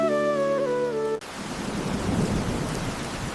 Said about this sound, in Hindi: लगता है बारिश कम हो रही है।